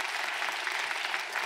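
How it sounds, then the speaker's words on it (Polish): An audience applauds actors after a comic stage sketch at a debate event, a brief burst of dense, even clapping from the crowd with no speech over it. "Ogromne brawa dla aktorów."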